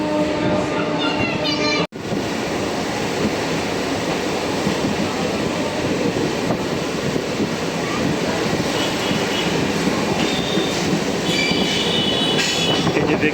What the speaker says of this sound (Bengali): এমইউ রেক চলছে